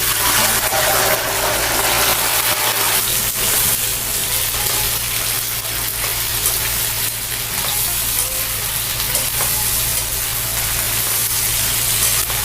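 Chilies frying in hot oil for a large batch of spicy Indonesian shallot sambal, a steady close dense sizzle and crackle with stirring throughout, loud and continuous with no voices.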